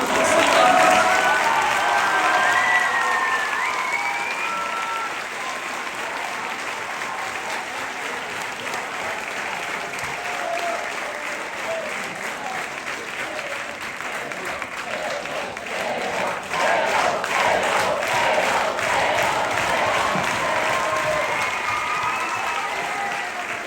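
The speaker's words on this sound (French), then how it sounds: "je pense qu'on peut l'applaudir" An audience applauds a retiring teacher, with loud, dense, sustained clapping close by that continues steadily throughout, with some crowd murmur and a few faint voices beneath it.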